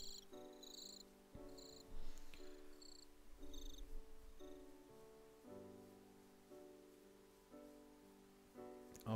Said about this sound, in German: Oh, die Grillen.